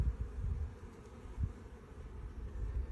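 Honey bees buzzing around an open hive during an outdoor inspection, a steady low drone with swells and brief louder passes as individual bees fly close to the microphone.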